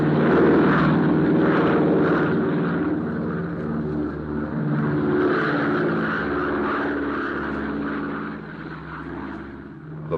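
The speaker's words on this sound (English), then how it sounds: "The big plane neared the end of a cross-country flight." A large airplane drones steadily in flight on a cross-country trip, a continuous rumbling engine tone for a vintage radio drama, with no other sounds over it.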